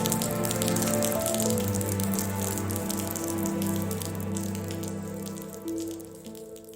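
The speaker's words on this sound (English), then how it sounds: "it just started raining" Rain has just begun falling outdoors on a campus on a Friday afternoon before commencement. It makes a steady patter of drops on surfaces over a low ambient hum, fading slightly toward the end.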